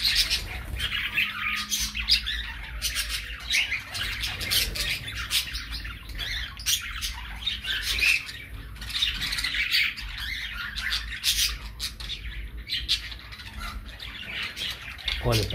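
Cockatiels and budgerigars in an aviary squawk and chirp almost nonstop, a dense layer of sharp overlapping calls mixed with scattered wing flutters and steady background noise.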